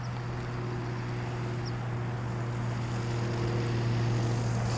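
Radio-controlled model airplane with its propeller still running after a slightly bouncy landing, a steady droning motor hum holding one pitch throughout at moderate distance, no voices.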